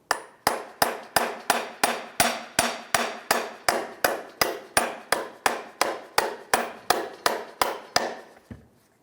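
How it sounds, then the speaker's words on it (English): A hammer gently taps a U-joint into a Toyota Tundra driveshaft center support bearing, giving about twenty evenly spaced, close metallic knocks with no voices. "use a hammer and gently tap this in"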